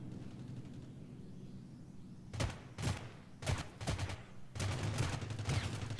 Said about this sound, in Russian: Опять стреляют.